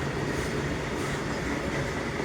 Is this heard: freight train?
yes